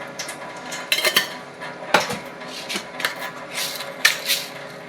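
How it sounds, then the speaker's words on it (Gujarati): A spoon clinks and scrapes against a metal saucepan as spoonfuls of tea leaves are added to water. Close, bright metallic taps and rattles come in irregular bursts, with no speech. "તેમાં આપણે 2 ચમચી ચા નાખી દઈશું."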